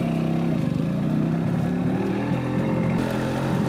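A Bajaj KB 100 two-stroke motorcycle runs steadily up close after a single kick start, its buzzing, crackling engine note loud and continuous with slight rises in revs.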